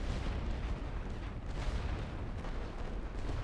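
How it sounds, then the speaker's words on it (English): Artillery barrage in The Great War Western Front, a continuous roar of distant shelling with dense overlapping thuds and rumbles, steady and heavy without a break. "I'm just picking random spots to drop artillery."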